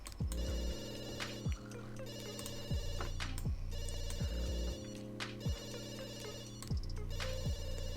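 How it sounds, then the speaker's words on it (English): An in-game telephone rings in a life-simulation game, a bright electronic ringtone repeating in steady bursts, clear and continuous with no talking. "Come on guys, answer the phone."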